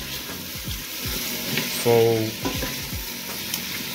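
Food sizzles steadily in a pot of hot seasoned oil while a utensil stirs it, giving scraping knocks and a short bubbling swell. The sound is close, and a voice briefly speaks.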